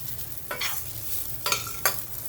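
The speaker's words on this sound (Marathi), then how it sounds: "तांदळाच्या पिठाला पण म्हणजे तांदूळ आपण भरड करून घेतली का त्याला पण असं परतून घ्यायचं तुपामध्ये" Coarse rice flour is roasted in ghee for kheer, a faint low fry hum broken by three short scraping stirs of a spoon in the pan, with no voices.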